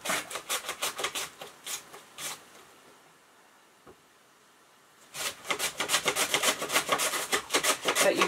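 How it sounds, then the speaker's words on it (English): Onion being sliced thinly on a mandolin slicer, a rapid series of rough rasping strokes at close range, pausing for about three seconds before the brisk rhythmic slicing resumes. "I'm actually going to use my mandolin slicer again to make my onion slices really nice and thin."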